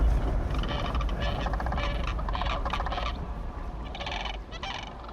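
A flock of sandhill cranes calls in overlapping rolling, trumpeting bursts that come in waves, fairly near and loud over a low outdoor rumble.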